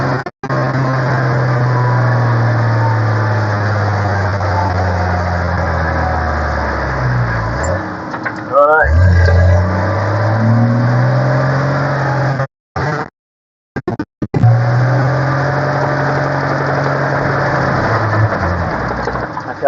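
A car driving through soft sand at Ngala Rocks, its engine droning loud and close with revving swells and a couple of brief dropouts partway through.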